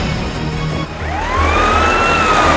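An ambulance siren wails with a rising, sweeping tone over a steady low rumble of traffic, loud and close, with no voices.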